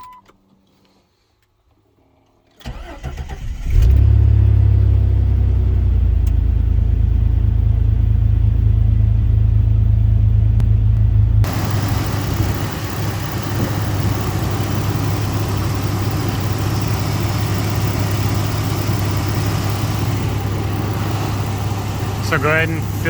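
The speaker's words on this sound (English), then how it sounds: "So go ahead and start up your vehicle." A 1999-2004 Jeep Grand Cherokee 4.0 engine cranks and catches after a brief silence, then settles into a steady low rumbling idle that continues, with a shift in tone partway through.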